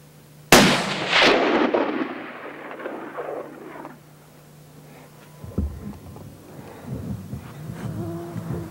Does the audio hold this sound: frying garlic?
no